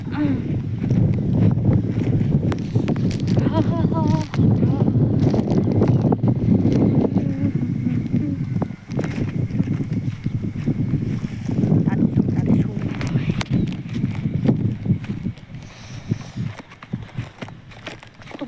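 Strong wind buffets the microphone in heavy, continuous gusts, with a voice speaking briefly underneath.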